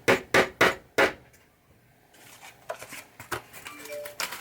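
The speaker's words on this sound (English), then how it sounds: "I like using a tiny little hammer for this." A small hammer taps a nail into a pop bumper on a 1980 Williams Firepower pinball machine, with four sharp, close taps in quick succession followed by quieter handling clicks and faint rustling.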